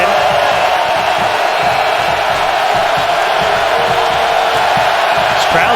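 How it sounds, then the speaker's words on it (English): A big, packed crowd of Wisconsin Badger fans roars steadily at Lambeau Field during a 2016 LSU versus Wisconsin college football game, a constant loud wall of cheering and yelling. "This crowd's getting into it. All these Badger fans, the majority. This is a loud stadium."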